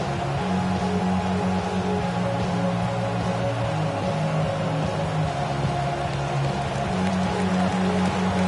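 Steady rain falls at a football stadium in uptown Charlotte on a Sunday afternoon, a continuous close hiss of drops on surfaces with a low background hum and no talk.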